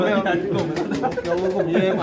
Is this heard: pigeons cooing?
yes